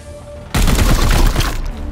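Gunfire in Warhammer 40,000: Chaos Gate - Daemonhunters, a loud burst of shots erupting suddenly after a quiet moment and rolling on as a dense, sustained volley to the end.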